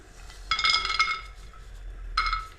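Peanuts are tipped into a cooking pan in two short bursts of bright clinking and rattling, with a quiet pause between them, while preparing a stuffed brinjal and sesame curry.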